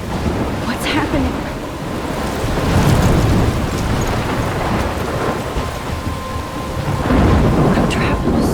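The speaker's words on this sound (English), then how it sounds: "I'm trapped in a storm." Storm in the video game Life is Strange, dense heavy rain hissing continuously with low thunder rumbles swelling twice, loud and close.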